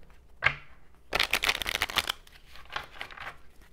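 A deck of angel oracle cards shuffled close up: a brief riffle, then a longer burst of rapid card flutter, followed by softer shuffles and taps.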